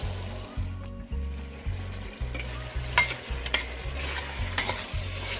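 Boiled meat with ground ginger, coriander, garlic and mixed spices, stirred in a pan, a soft sizzle under rhythmic scraping strokes repeating about twice a second, close and moderately quiet, with no talking.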